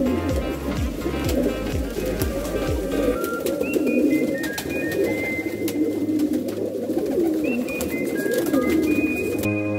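Pigeons cooing in repeated low, throaty phrases close by, with some higher bird chirps and a thumping rumble underneath early on.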